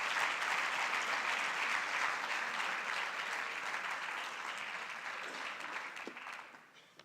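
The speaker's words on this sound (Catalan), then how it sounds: "Aplaudiment, per favor, per a la Fira Sabers i Sabors d'Alcàsser" An audience at an award ceremony for regional L'Horta Sud prizes, with a fair's winners being honored, gives sustained loud applause that holds steady for several seconds, then thins and fades out near the end.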